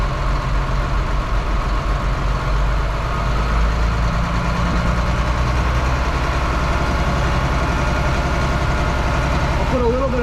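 A farm manure truck's engine idles steadily with a deep, continuous rumble throughout, its pitch shifting slightly partway through as if starting to rev, with some background noise on top.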